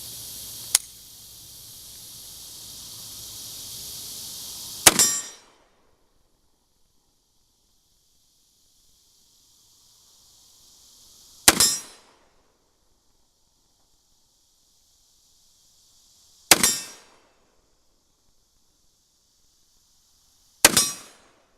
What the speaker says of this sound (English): Dan will be shooting our 308 at 5 shots.